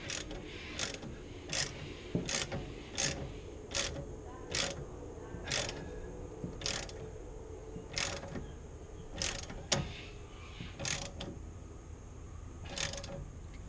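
A ratchet wrench tightens the 9/16 swingarm clamp bolt on an MGB front suspension, giving a steady series of close, crisp ratcheting clicks, roughly one each second, over faint workshop noise.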